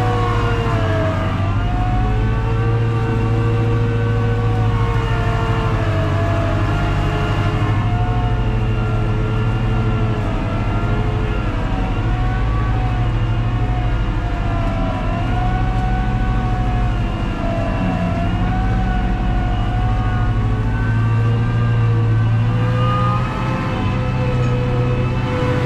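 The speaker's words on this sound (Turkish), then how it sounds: "Şu an traktör 4 teker pati çekiyor." A Fendt 314 tractor's engine drones loud and steady, its pitch wavering as the four-wheel drive spins in mud on a slope, continuous and close with no talking.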